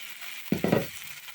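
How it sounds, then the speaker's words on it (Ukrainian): A pancake fries under a lid in a pan with a soft, steady sizzle, broken midway by a brief cluster of three close knocks from the pan or lid. "Блинчик підсмажився, перевертаємо на іншу сторону. Накриваємо також кришкою і тушкуємо під кришкою."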